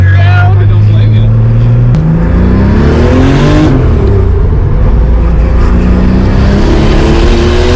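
A modified McLaren sports car, one of 350 built, revs hard nearby, its engine note rising and falling in loud sweeping pitch climbs and drops, with people talking over the blaring exhaust.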